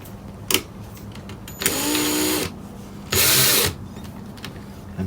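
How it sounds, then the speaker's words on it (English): An electric drill spins a part during repair of an HMV valve record player: two bursts of loud, whining motor noise each lasting under a second, with faint clicks and handling sounds between them. "I'll put this in the drill."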